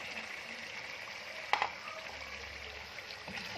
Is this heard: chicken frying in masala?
yes